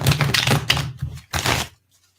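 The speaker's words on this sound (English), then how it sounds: "That bridge there did not shuffle well." Tarot cards being bridge shuffled by hand, a close series of rapid riffling bursts that ends in a quick clatter as the deck settles, with no speech over it.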